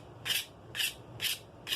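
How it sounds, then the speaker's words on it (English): A razor scrapes varnish off the handle of a Craftsman ball-peen hammer in four even, close scraping strokes, each a bright rasp separated by short pauses. "you want to take your razor, just give it a good scrape"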